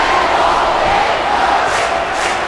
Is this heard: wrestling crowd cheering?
yes